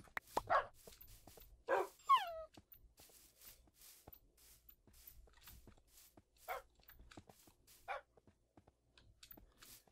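Dogs in a Minecraft UHC match give several short, sharp barks and yips spread irregularly across the stretch, with quiet game noises and footsteps between them and no talk.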